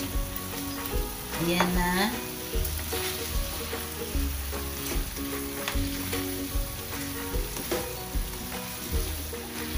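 Chicken fries in coconut milk with a steady, loud sizzle while a utensil stirs and scrapes the pan, and a voice speaks briefly over the cooking.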